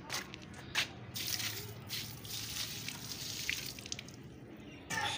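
Water splashes and trickles continuously, poured from a container onto plants, with a few brief drips and pauses near the start and end.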